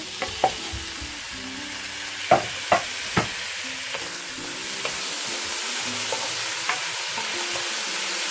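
Tomatoes frying in a pan for chicken masala, a steady close sizzle broken by several sharp clinks and scrapes of a spoon stirring.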